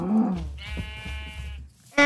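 Sheep bleating in the Skyblock video game, a wavering game-animal bleat that starts loud, holds for about a second and a half, then trails off before a sharp new sound at the end.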